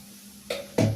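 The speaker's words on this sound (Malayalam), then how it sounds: "ഒരു രണ്ട് സ്പൂണ് നെയ്യ് ഒഴിച്ചു കൊടുക്കുകയാണ് കേട്ടോ" Ghee poured into a hot pan for carrot and chana dal (kadalaparippu) payasam starts to sizzle in two quick bursts, the second louder and fuller, close and with no talk.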